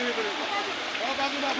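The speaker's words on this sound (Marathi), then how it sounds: "हा बघा पूर कसा आलेला आहे." Floodwater rushing over a road, a steady broad gushing wash, fairly loud and close, heard briefly with a voice speaking over it.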